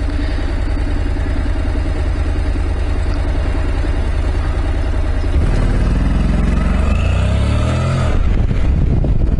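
A Honda NC 700 motorcycle engine drones steadily and loud, then climbs sharply in pitch through two hard pulls of acceleration, heard up close with heavy rumble.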